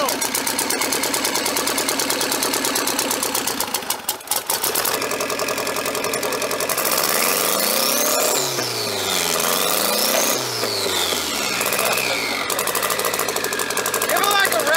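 A turbocharged KA24E engine in a Nissan 240SX runs loud and close just after start-up, a steady dense mechanical roar with rising and falling revs partway through.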